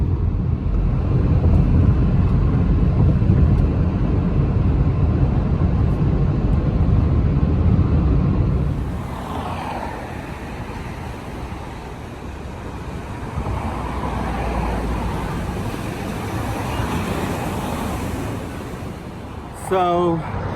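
A car on a road during a short drive, with a steady low engine and tyre rumble that drops to a lighter, smoother road hum partway through and carries on without pause.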